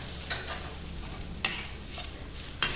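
A spoon stirs coconut milk into a simmering cassava leaf curry in a pot, giving a steady bubbling sizzle with a few soft scraping clinks against the pot, close and even throughout, with no talk.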